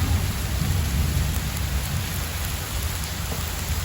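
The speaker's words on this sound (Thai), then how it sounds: "ฝนก็ยังตกบนเตาด้วยจ้ะ" Steady, close rain pours down over an outdoor cooking stove, with a continuous hiss of drops on surfaces and faint low rumbles beneath and no voices.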